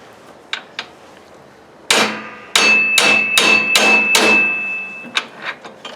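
A few light taps, then a run of hard, ringing hammer strikes knocking out a metal pin on a John Deere 318 tractor, close by, followed by softer scattered knocks.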